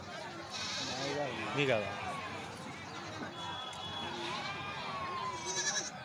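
Goats bleat repeatedly at a busy Thursday goat market in Jammalamadugu, their cries rising over a steady background of crowd chatter, with people talking nearby throughout.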